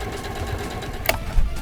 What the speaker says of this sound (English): So we're gonna stitch these ones first. A little bit more chain stitching.